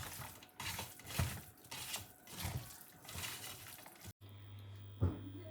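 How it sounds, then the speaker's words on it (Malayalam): Water poured into marinated moose meat with chili and tomato for cooking, irregular splashy bursts with light clinks against the pot, ending in a sharp cut and a low hum. "ഇനി ഇറച്ചിയിലേക്ക് നമുക്ക് വെള്ളം ചേർത്ത് മീറ്റ് കുക്ക് ചെയ്തെടുക്കാം."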